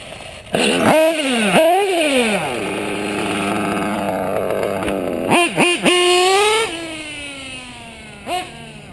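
A modded Novarossi P5XL nitro engine in an RC car, barely a quarter tank of Sidewinder fuel, revs in sharp high-pitched bursts, its whine sweeping up and down before settling into a loud, steady, wavering scream with more blips near the end.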